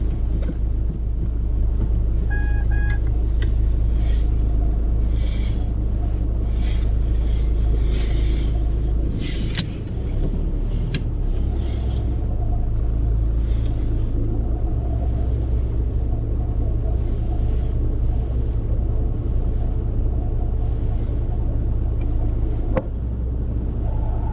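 A car during a driving test reverses slowly, a steady low engine rumble with broadband road and cabin noise running continuously, close and fairly loud, with a brief dip midway.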